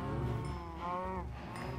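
Minecraft cows mooing, a couple of drawn-out game-sound moos in quick succession over a faint background, with no talking.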